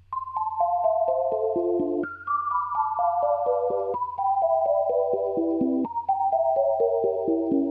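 Bedroom pop beat after the drop, its melody stepping down from top to bottom in repeated descending runs of plucked tones over a low sustained bass, moderate and steady.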